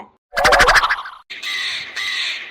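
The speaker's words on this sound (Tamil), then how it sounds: "ஓயாம காக்கா இந்த பக்கமே தான் சுத்தி சுத்தி வருது" A crow caws loudly and close by, a harsh rapid burst followed by two longer, drawn-out calls with a brief gap between them.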